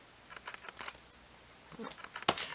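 Scissors trim the edge of a handmade A2 birthday card, giving short bursts of crisp snipping close by, a first cluster followed by a pause and then a second, sharper run of cuts.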